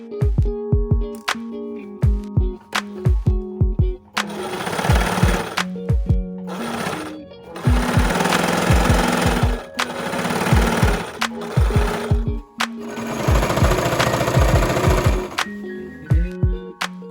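Bursts of a sewing machine running a straight stitch along a shirt sleeve hem, several runs of steady rapid stitching separated by pauses and small handling clicks, close and fairly loud.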